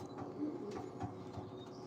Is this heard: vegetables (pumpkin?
no